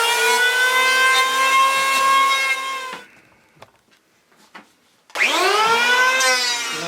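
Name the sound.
bandsaw cutting wooden blanks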